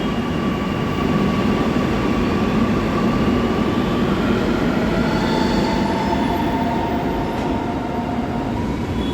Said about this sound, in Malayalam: കണ്ടോ ഗായ്സ് പോയ മെട്രോ